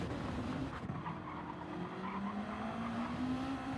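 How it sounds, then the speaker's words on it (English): A race car brakes hard into turn one of a Super GT series round, tires squealing in a long rising whine over the loud engine drone throughout. "Heavy braking into turn one."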